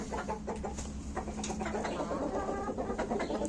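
Domestic laying hens cluck in a steady, overlapping chorus during morning feeding on a small poultry farm. The calls are close and continuous, with no talking.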